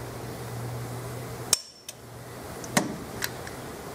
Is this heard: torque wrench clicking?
yes